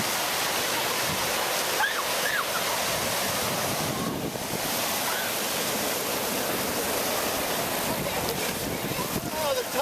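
Ocean tide washes over smooth rocks on a Catalina shoreline, a steady broad roar of surf that runs the whole time, with faint voices now and then.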